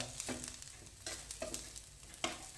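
Coconut pieces roast with browned onion in a pan for a Kolhapuri dish, giving a soft continuous sizzle broken by several sharp scraping stirs of a spoon against the pan.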